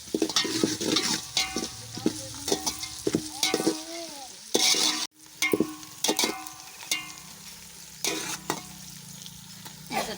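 Green chillies, tomato and ginger-garlic paste fry in a pan for chicken biryani, with sizzling broken up by repeated scraping stirs and clatters, and a brief loud clank midway.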